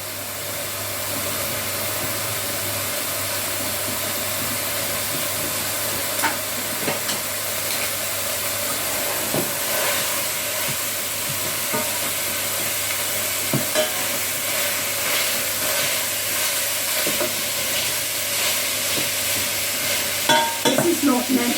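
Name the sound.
meat sizzling in a hot pot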